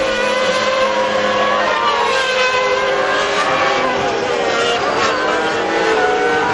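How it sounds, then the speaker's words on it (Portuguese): Formula 1 car engine at the 1995 Belgian Grand Prix, David Coulthard's, roaring at high revs with rising and falling gear-shift tones, loud and continuous, close up with no pauses. "Tá curtindo aí o ronco do motor do Coulthard."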